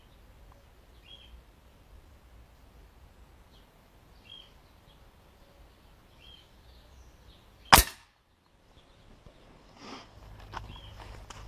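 An air rifle fires one lead pellet, a single sharp crack standing alone against quiet outdoor background with faint bird chirps, followed by light handling noise.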